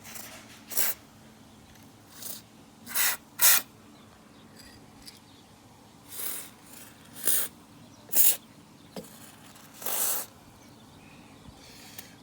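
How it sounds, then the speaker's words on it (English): Several short hissing spray bursts aimed into screws and moving parts, at uneven intervals, close by, separated by quiet gaps with faint background hum. "so we are trying to get to every moving part, all the screws, to spray in"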